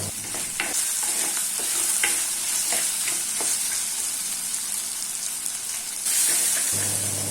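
Turmeric and salt sautéing in a pan for Tamil-style potato poori masala: a steady, close sizzle of frying throughout, punctuated by intermittent scraping stirs, with no voices.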